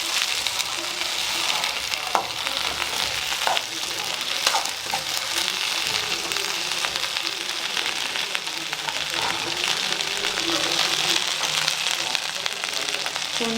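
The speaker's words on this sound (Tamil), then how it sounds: "வெண்டைக்காயை நல்லா வதக்க போகிறோம்." Okra sautéing in a pan for vendaikai puli kuzhambu gives off a loud, steady sizzle throughout, with occasional soft scrapes and clicks of stirring.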